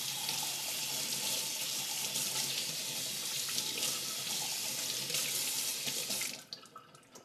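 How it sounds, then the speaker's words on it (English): Tap water runs steadily over a piece of stale bread to wet it, a continuous close splashing that stops abruptly near the end. "So how do we wash our bread? Just get our bread wet."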